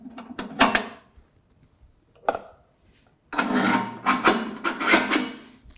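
Metal fixing rods are slid and fitted into a Molinito stone corn grinder, giving short scraping, clicking and rubbing bursts: a few brief knocks, a pause, then a longer run of close rattling metal contacts.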